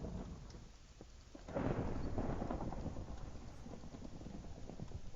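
A thunderstorm rumbles in the Minecraft modpack Pandemicraft, with steady rain hiss and a deep roll of thunder swelling after the first second and lingering at a fairly quiet level.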